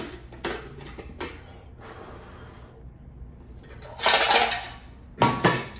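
Pork and fat from a Russian MRE tipped into a small metal pan, giving scraping clatters and a wet sizzling rush, with a few sharp clinks of metal.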